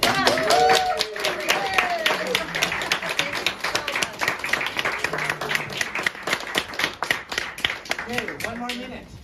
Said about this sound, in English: I think they deserve a real loud round of applause.